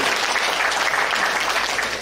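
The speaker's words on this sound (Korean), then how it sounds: "우리 수고한 분들 위해서 박수 한번" Brief, dense applause from a church congregation honoring young volunteers who decorated the worship hall, an even wash of many hands clapping for about two seconds.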